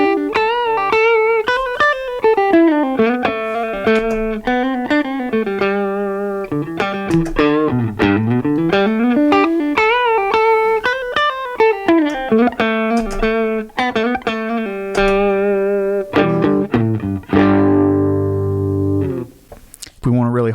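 Electric guitar played through a boost pedal set for a clean tone, ringing out melodic lines of sustained notes and quick runs, closing on strummed chords, loud and close with no talking.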